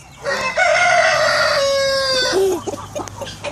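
Backyard chickens at feeding time: one long, loud rooster crow close by, followed by a few short clucks from the flock.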